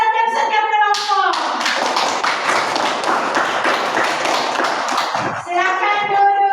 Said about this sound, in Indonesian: Tepuk tangan untuk setiap kelompok.